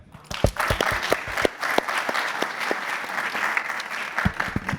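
An audience claps steadily for several seconds in a large hall, sharp individual claps standing out over a dense patter as speakers are welcomed on stage at a tech talk.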